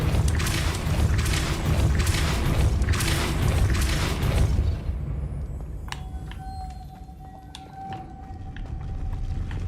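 A Depulso spell cast in Hogwarts Legacy gives a run of loud, pulsing whooshing bursts, then fades into a quieter magical hum with ringing tones.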